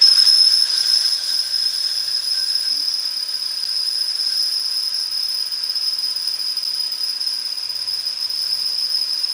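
A drill bit squeals while boring through a metal tractor part, a loud, steady high-pitched whine held continuously and close.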